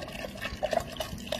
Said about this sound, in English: We're just gonna add water.